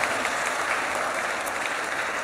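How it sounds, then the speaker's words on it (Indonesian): A church congregation applauds during a sermon, a steady, dense burst of clapping that fills the whole stretch at fairly loud level without any talk. "Tepuk tangan lagi ke sini ke sini."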